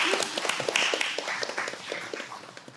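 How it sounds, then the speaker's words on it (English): Scattered hand clapping from a small workshop audience greeting a newly graduated archaeologist, with individual claps distinct and fairly near, tapering slightly toward the end. "Let's give her a round of applause."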